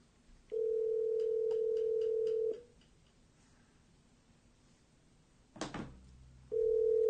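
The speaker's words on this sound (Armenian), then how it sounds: "Звоним министру МВД Армении." Outgoing telephone call to Armenia's interior minister, live on air: two long steady ringback tones, separated by a soft click and rustle, sounding clearly and alone.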